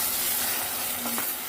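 Fresh tomato hits hot sauce seasoned with meat spice and sizzles in a close, soft, steady fry, with a faint stir near the end.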